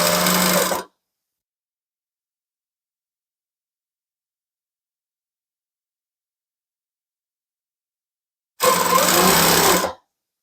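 A sewing machine stitches a tulle tutu skirt onto ribbon in two short, loud, close bursts at the start and end, separated by about eight seconds of silence.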